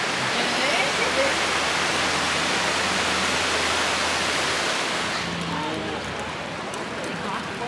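Steady rushing hot spring water pours down channels and splashes nearby in Japan, a constant broadband wash that eases slightly toward the end.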